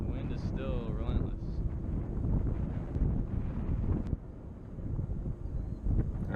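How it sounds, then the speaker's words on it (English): Strong, relentless wind buffets the microphone on an outdoor golf course, a steady loud rumble filling the whole stretch with gusty surges and no clear speech over it. "The wind is still relentless."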